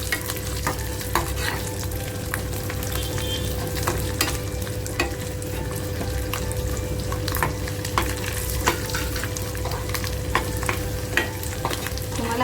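Coconut, garlic, black pepper, cloves and cinnamon fry together in a pan for a mutton rassa, a continuous close sizzle with frequent light stirring scrapes and clicks throughout.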